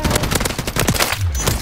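Rapid automatic gunfire in a video game, dense bursts of loud close shots in quick succession, brief and intense, with a voice faintly mixed in.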